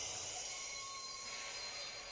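A LEGO Disney train's app-driven starting sound plays, a faint, steady hissing rail-like rumble with a thin high whine, continuous and without talk.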